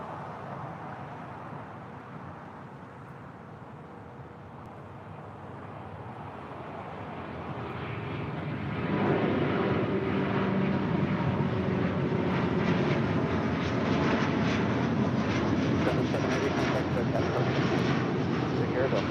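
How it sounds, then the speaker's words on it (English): A Delta Airlines Airbus A330neo, three years old, begins its takeoff roll at LAX bound for Tokyo Haneda, its jet roar swelling from a moderate rumble to a loud, sustained broadband thunder about halfway through, with a voice talking over it. "Now rolling is Delta Airlines Flight 7 Heavy. This is a 3-year-old A330 Neo headed out to Tokyo,"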